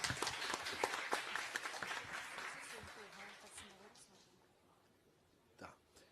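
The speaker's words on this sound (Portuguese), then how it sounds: "Salve de palmas" Applause from an audience at a Portuguese-language public hearing, a burst of clapping with some voices that fades out over several seconds, then a brief noise near the end.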